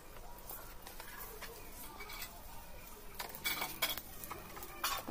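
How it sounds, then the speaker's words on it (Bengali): Panch phoron spices hit hot oil with a soft, fairly faint sizzle and crackle, accompanied by clinks and stirring scrapes that grow louder toward the end, with some speech nearby. "এবার দিয়ে দেবো তেলের মধ্যে 5 ফোড়ন।"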